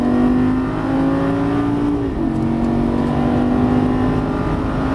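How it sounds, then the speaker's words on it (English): A Lamborghini Gallardo Superleggera LP570-4 at full throttle on a Las Vegas track, its engine roaring loudly and continuously from inside the car, the pitch climbing and then briefly dipping at a gear change before rising again. "Going full throttle straight ahead, brake real hard, brake harder, downshift once"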